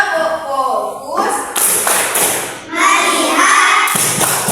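Children in a classroom clapping the tepuk fokus focus-clap rhythm, sharp bursts of hand claps and thumps in short groups alternating with a teacher's voice and the children's chanting.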